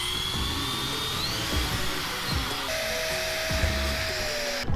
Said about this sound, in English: Let's drill out those rivets.